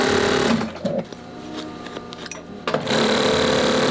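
An industrial sewing machine stitches tough wool back panels for a WWII B3 bomber jacket, whirring loudly and steadily, easing off for a couple of seconds mid-clip, then surging back to full speed.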